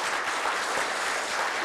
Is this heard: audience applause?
yes